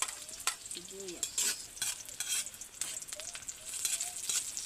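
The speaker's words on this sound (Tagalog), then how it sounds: "magigisa tayo ng pako with egg. Yan natin yung sibuyas." Onions sauté in a hot pan for fern with eggs, with a soft continuous sizzle broken by repeated stirring scrapes and clinks of a utensil, fairly quiet and close, with no talking.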